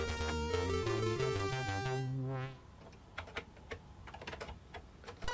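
A loud tonal computer startup melody fades out, then keys clatter on the C64 Maxi keyboard in scattered, irregular clicks and taps, close up and moderately quiet.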